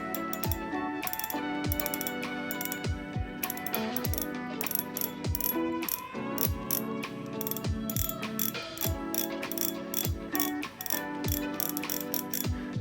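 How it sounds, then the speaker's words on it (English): A steady mechanical clicking of an ultralight spinning reel spool turned by finger, rapid ratchet-like ticks with a faint whirring tone, close up and continuous with slight speed changes. "because I'll be using my finger to spin the spool around"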